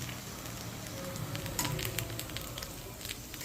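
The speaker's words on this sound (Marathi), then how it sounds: "दोन्ही बाजूंनी आपल्याला छान खरपूस असे भाजून घ्यायचे आहेत" Fasting-style appe frying in an appe pan, browning on both sides, a faint steady sizzle with occasional soft pops and patter, no talk.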